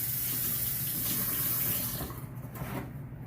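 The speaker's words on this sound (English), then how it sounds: "Let me just rinse my hands." Water runs steadily from a kitchen tap as hands are quickly rinsed while preparing sweet chili lime salmon, a continuous close splashing stream that eases slightly toward the end.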